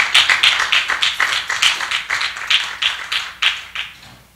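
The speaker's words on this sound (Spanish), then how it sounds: "Dale un aplauso a Cristo, hermano." Rhythmic, evenly timed clapping from a church congregation, about a dozen loud close claps in steady tempo that fade toward the end.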